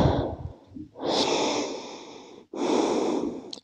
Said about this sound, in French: Et je vous invite à rester là pour quelques respirations.